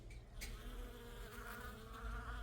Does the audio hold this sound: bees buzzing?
yes